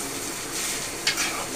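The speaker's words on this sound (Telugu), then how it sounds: "తాలింపు పెట్టేస్తున్నాను." Whole spices for jeera rice tempering sizzle in hot oil in a home kitchen pan, a steady close crackling hiss with a brief sharper spatter near the end.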